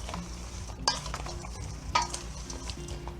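Boiled potatoes with garlic, dill and herbs are stirred together in a pan, a soft continuous sizzling bed punctuated by two distinct utensil clinks against the metal; no one speaks.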